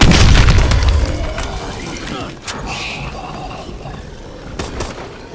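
Grenade explosion in Exo Zombies on Xbox One, a loud booming blast at the start that fades into rumbling game noise, with mechanical clicks and a voice talking over it.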